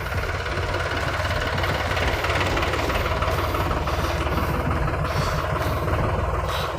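A New Holland 7500 4x4 tractor engine idles steadily at close range, giving a loud, even diesel rumble that stays constant throughout with no talking.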